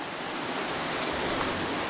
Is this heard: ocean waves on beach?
yes